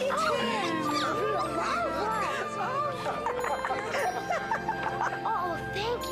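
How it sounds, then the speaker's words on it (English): Puppy given as a Christmas gift whimpers and yips repeatedly in high, wavering cries, close and busy, with people's excited voices mixed in. "Whoa, a puppy!"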